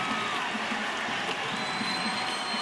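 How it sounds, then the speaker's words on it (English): Arena crowd at Mohegan Sun cheering on high school basketball teams during a fourth-quarter comeback, a steady roar of voices with whoops and scattered clapping, sustained and fairly loud throughout. "Everybody's up here at the Mohegan Sun Arena cheering their teams on."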